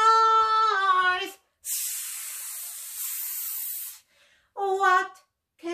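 A human voice imitates a snake's hiss with a long, breathy sss lasting over two seconds, framed by short bits of a woman's sing-song talking before and after.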